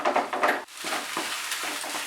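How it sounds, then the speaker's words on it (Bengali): Rui fish and pointed gourd curry is stirred in a kadai over a high flame: a spatula scrapes close and loud over a continuous hot sizzle, with no one talking. "দিয়ে আমি এটাকে সমানে নাড়ছি।"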